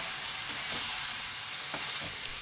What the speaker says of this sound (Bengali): দিয়ে আমি এবারে ভালো করে আরেকটু কষিয়ে নেব আলু পটলের সাথে মশলাটা